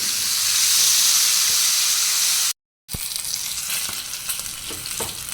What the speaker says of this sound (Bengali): মাছটা আবার ভেজে নেব।